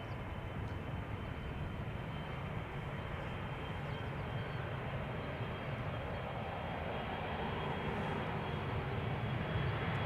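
A KLM Embraer 175 jet on the runway gives off a steady, continuous engine roar, heard from a distance and unchanging for the whole stretch, with no voices.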